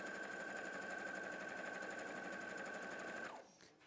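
Domestic sewing machine stitching a quarter-inch seam, a continuous close whirring hum with a steady high whine that winds down near the end.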